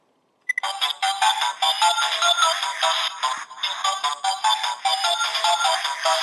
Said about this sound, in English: So when we push the enter button,